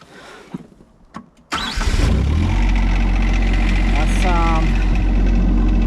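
A tractor engine cranks and catches after a few quiet knocks, then settles into a loud, steady idle up close on a snowy day in Wisconsin.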